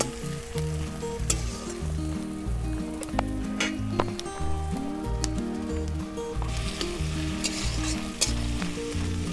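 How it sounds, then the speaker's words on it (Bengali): Onion fries in a hot pan for a prawn dish, a constant close sizzle broken by repeated stirring scrapes and small clacks of the spoon, no voices over it. "পেঁয়াজটা সুন্দর ভাজা ভাজা হবে।"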